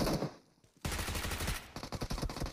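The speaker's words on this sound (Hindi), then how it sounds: "अरे तेरी फायरिंग आ रही है यार पीछे से" Rapid gunfire in the battle royale game BGMI, loud bursts of automatic shots that break off briefly, then return as a rattling volley of close, sharp reports.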